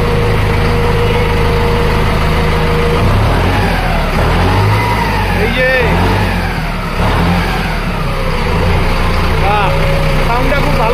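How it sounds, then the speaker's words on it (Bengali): A second-hand tractor engine turns over and settles into a steady mid-pitched running rumble with some revving, loud and close, while someone talks over it outdoors. "তো ভাই গাড়িটা স্টার্ট দিচ্ছে।"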